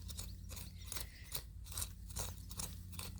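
A left-handed Niwashi hand tool digs a small planting hole in garden soil for a bush cucumber, making faint rhythmic scraping and crunching strokes at about three per second.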